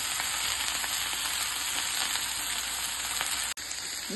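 Kofta made from mixed chicken and beef sizzling in a pan, a loud steady frying hiss throughout, broken by a sharp click and a momentary drop as a piece is turned over, no speech.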